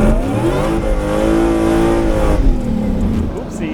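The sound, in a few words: supercharged V8 drift truck engine revving, supercharger whine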